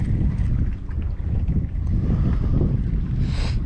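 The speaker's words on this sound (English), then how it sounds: "The wind is getting me a little chilly today" Strong, rumbling wind buffeting outdoors at a campsite by the water while fishing, a constant roar close to the microphone.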